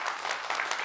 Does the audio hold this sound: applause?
yes